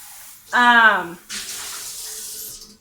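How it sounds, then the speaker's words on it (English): A brief tonal squeak is followed by water running from a tap, rinsing out a lye container, a steady hissing splash that continues close by for a couple of seconds. "immediately go over and rinse out your lye container"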